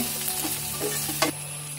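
Sliced onions with salt being stirred in a frying pan for bhindi masala, a soft sizzle with a few scraping strokes of the spoon over a steady low hum, close and brief.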